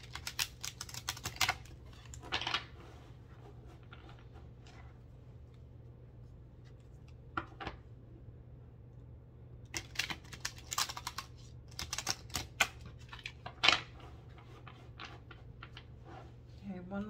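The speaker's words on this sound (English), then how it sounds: "I'm just going to shuffle the cards three times." A deck of tarot cards is shuffled up close in short, crisp bursts of riffling and tapping, separated by quiet pauses across a low steady hum, with faint ticks in between.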